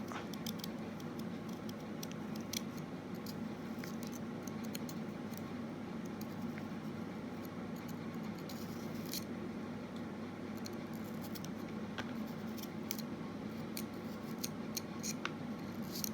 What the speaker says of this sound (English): Insert your knife, the tip of the knife in there and cut out